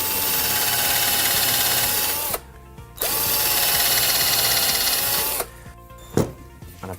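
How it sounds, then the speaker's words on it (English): Power drill boring pilot holes into pallet wood, two sustained whining runs of a couple of seconds each separated by a short pause, close and loud, ending with a clunk. "Drill a couple of pilot holes in them."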